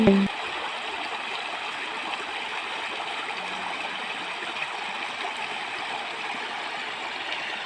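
A river near hills, swollen after rain, rushes and gurgles in a steady, even flow that fills the whole clip without voices, apart from a faint knock at the very start.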